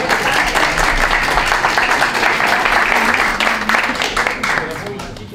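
Loud, dense applause fills a hall at a Greek political candidacy announcement event, steady and sustained before tapering slightly at the end, with crowd noise mixed in.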